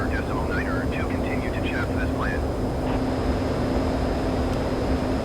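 A DC Designs F-14 Tomcat jet in Microsoft Flight Simulator 2020 gives off a steady, loud engine roar and hum throughout, with a constant whine and a voice talking over it.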